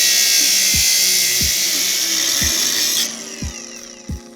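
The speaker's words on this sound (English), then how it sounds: "first thing we can do is just chop that down with a grinder" An angle grinder slices through metal on an Amazon mini jeep being fitted with twin turbos, a loud, piercing high whine running steadily for about three seconds before cutting off, with knocks and thumps during and after.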